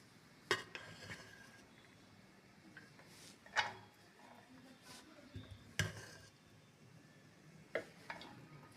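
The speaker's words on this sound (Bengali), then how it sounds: "এই পাত্রের মধ্যে আমি 3-4 হাতা মতো ঢেলে নেব।" A metal ladle scoops 90% boiled rice into a pot for vegetarian fried rice, giving sharp, separate clinks and scrapes every second or two against a quiet kitchen background.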